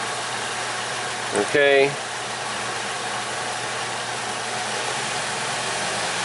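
A Chevy Equinox with a low-power fault and P0016/P0011 cam timing codes idles steadily, a low, even engine hum close by, briefly interrupted by a short spoken word.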